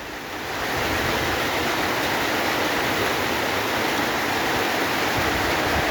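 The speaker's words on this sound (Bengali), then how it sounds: "রোদ কিন্তু বৃষ্টি হচ্ছে সমান বৃষ্টি মনে হচ্ছে যেন বর্ষাকাল" A steady, dense wash of rain pours down in a hilly area during sunshine, swelling in the first second and then holding loud and unbroken.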